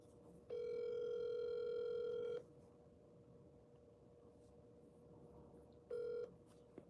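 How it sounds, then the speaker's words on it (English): A telephone plays dial-call tones over a quiet room: one long steady tone of about two seconds, then a silence of several seconds, then a second shorter tone, clear and close. "I'm going to make a phone call real quick."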